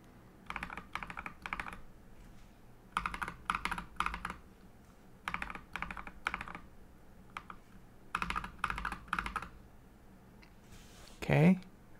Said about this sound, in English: I'm going to type Night Breeze again so you can compare